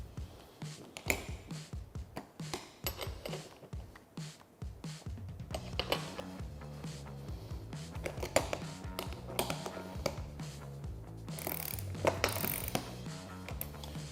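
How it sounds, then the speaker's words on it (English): Two 17mm wrenches snug up the nuts on a glass windshield being fitted to a Polaris RZR 900, with steady metallic clicks, ratcheting and tool clatter close by and no talking. "And we're just gonna wanna snug these up. It's two 17mm wrenches."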